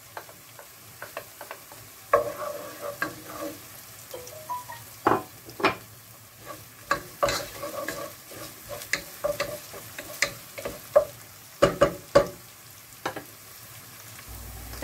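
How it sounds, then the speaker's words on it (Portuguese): Garlic and oil fry in a pan with a soft, crackly sizzle, punctuated by irregular clicks and scrapes of stirring close by, quiet overall with no talking. "Entretanto, vou pôr os alhos e o óleo."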